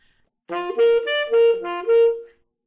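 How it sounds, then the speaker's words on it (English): A solo jazz horn plays a short run of straight eighth notes in classical style, evenly spaced, each given the same length, clear and close. "So if you were to play 8th note straight, in a classical form it would sound like this."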